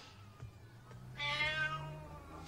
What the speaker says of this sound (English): You've got a lovely little cat.